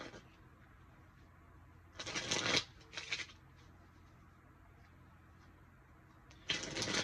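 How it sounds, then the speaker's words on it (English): A deck of tarot cards is shuffled in two quick riffling bursts around the two- to three-second mark, then again near the end, close and crisp in an otherwise quiet room. "One more shuffle."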